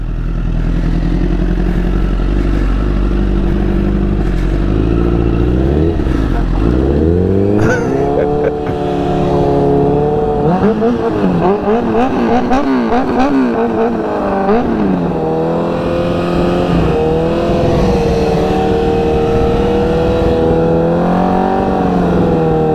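A motorcycle stuck in snow, its engine revving hard and rising and falling in pitch as it strains and stalls, loud and close with some clatter and no voices.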